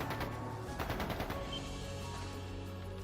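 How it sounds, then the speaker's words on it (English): Rapid bursts of automatic gunfire in the video game Trails of Cold Steel II, under a dense, steady background of noise and tones, the shots fading into a continuous rumble. "That didn't sound good. That sounded like gunfire."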